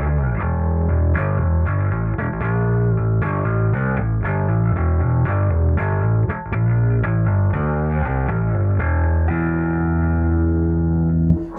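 An electric bass played through a Suncoast Analog bass drive distortion pedal, a loud, gritty, saturated tone with a run of plucked notes ending on a sustained note.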